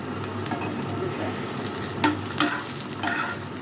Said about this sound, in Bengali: কলা ভাজা একটু তাড়াতাড়ি করতেছি